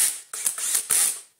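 A Dyson DC40 vacuum's motor casing being clipped into place, with a few sharp plastic clicks and creaks close by in a short burst.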